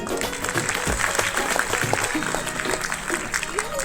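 Hearty applause rises from the audience at a Hindustan Olympiad genius award ceremony for toppers, a dense, continuous clatter of clapping with voices mixed in.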